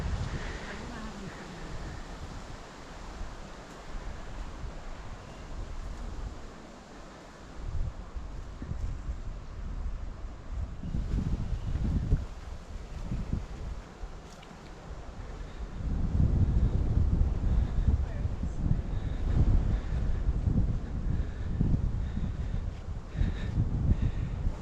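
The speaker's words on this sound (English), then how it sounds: "It's a little windy up here." Wind buffets the microphone on an exposed hilltop near Virginia Beach, a continuous low rumbling roar that swells and gusts louder in the second half, with no voices.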